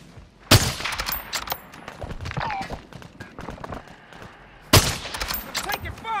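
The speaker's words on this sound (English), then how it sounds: "We're taking fire. Moving here. They're shooting inside the building too." Gunfire in a multiplayer shooter video game: two loud sharp blasts stand out, with scattered quicker shots and clattery action filling the gaps, while a voice talks over the fighting.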